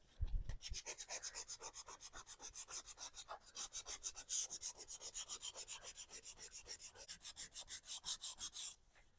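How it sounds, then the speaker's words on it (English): A vintage Pyrex glass dish being hand sanded in quick, even back-and-forth strokes. The close, raspy rubbing keeps a steady rhythm for several seconds, with one short pause partway through and no talking. "What I'm doing is sanding it, doing the feel test."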